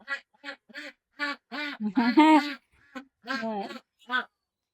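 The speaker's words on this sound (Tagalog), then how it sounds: "Ingay yung mga bibe." Ducks quack nearby in a loud, busy series of nasal calls, some overlapping into a noisy cluster, with short pauses between bursts.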